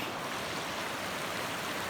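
Creek water at Stone Creek rushing steadily over a bed of rocks, a continuous broadband wash that stays even and fairly close throughout, with no voices over it.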